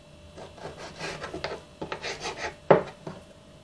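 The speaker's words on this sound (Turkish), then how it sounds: "Uzunlamasına parmak kalınlığında kesiyorum." A knife slices food lengthwise into finger-thick strips, making close, repeated soft rasping strokes on a board with one sharper knock near the end.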